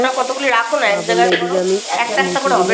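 Food sizzles and is stirred in a home kitchen during cooking for a baby shower ceremony, with a steady frying hiss throughout and a voice sounding over it.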